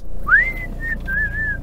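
A person whistles a short melody alone and close by: one quick rising note, then a few steady, wavering tones.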